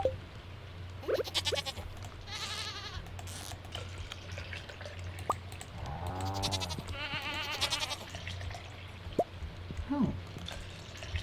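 Goats on a Stardew Valley farm bleat in the video game, several short wavering calls spread across the stretch over soft background music, with occasional light drip-like sound effects between them.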